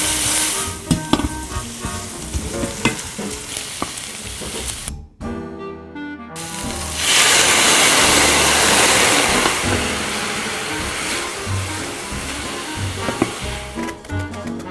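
Cauliflower sizzles steadily in extra virgin Greek olive oil, with scraping stirs and utensil clatter throughout; a brief near-silent gap breaks it, then a louder, dense frying hiss swells and carries on, braised Ikaria-style.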